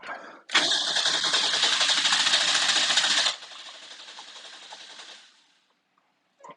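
A 1992 Isuzu pickup engine catches and revs loud and close for about three seconds, drops to a rougher, quieter idle, then dies out, leaving a brief trailing noise.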